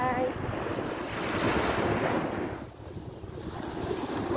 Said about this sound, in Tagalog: Ito ang Sinai Beach ng Bulacan.